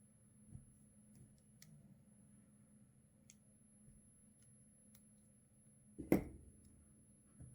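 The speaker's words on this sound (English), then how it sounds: "So now what I'm going to do is cut the cord" Scissors cut a beading cord for a handmade bracelet. One sharp, close snip comes near the end, after a stretch of faint, scattered ticks in a quiet room.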